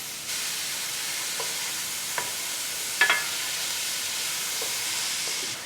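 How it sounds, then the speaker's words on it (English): Mushrooms stirred into a hot pan with kosher salt give a steady sizzle and frying hiss, with a few soft clicks and scrapes of the spoon against the pan and no talking. "you can stir in the mushrooms, plus 2 teaspoons of kosher salt"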